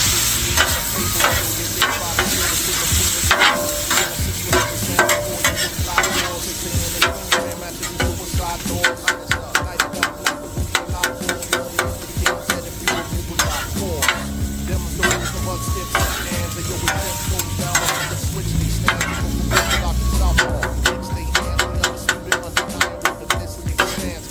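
A5 Wagyu, onions and peppers sizzle loudly on a Weber Slate griddle, a constant hiss punctuated by rapid metal spatula scrapes and clicks as the food is tossed and chopped.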